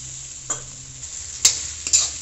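Onion and capsicum curry cooking in oil over a high flame, a steady soft sizzle broken by a few sharp clatters of stirring, close and alone with no talk.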